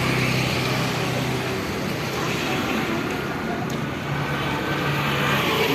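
Dense, steady roar of traffic and engines beside the parking lot at Baga Beach, Goa, fairly loud and continuous for several seconds, with a faint murmur of voices mixed in.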